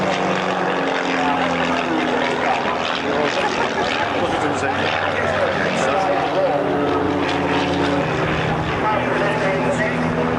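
A propeller aircraft flies at the 1991 RAF Valley Air Show on Anglesey, its loud engine drone steady and unbroken throughout.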